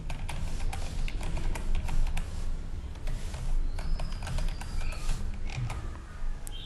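Someone types a password on a computer keyboard during Linux setup: a light, irregular patter of key clicks at close range, with no voices.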